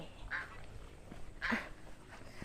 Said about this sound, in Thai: ได้ยินเสียงอะไรไหม เสียงห่านร้องนะคะ